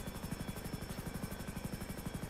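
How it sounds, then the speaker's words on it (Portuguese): Helicopter rotor in a GTA roleplay video game, a steady rapid low chop with whining turbine tones, continuous and fairly faint. "Pera, que o helicóptero tá falhando."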